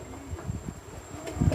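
Flies buzz near an electric fan at a rural Thai home, a faint, wavering insect drone over a low steady fan hum, heard close with no speech.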